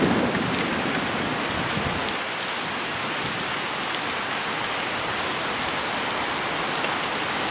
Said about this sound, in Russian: А дождь усиливается.